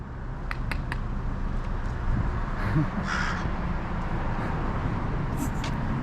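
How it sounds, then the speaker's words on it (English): Several crows caw overhead on a city street in repeated sharp bursts, heard over steady traffic rumble with a person nearby. "it's like crow up here"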